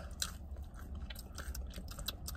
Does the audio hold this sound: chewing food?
yes